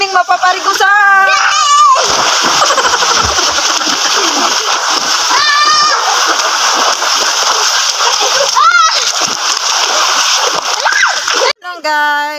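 Water splashes constantly as people bathe in a river in Roxas, Palawan, a loud close churning with children's and other voices and shouts running over it throughout.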